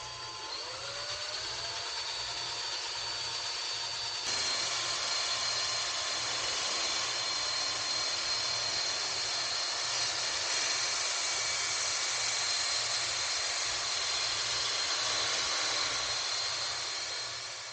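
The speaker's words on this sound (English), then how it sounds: "I'll just turn the drill" A steady electric drill spins a wild rose arrow shaft, whirring continuously at close range, a high-pitched hum holding level for the whole stretch with faint grinding friction underneath.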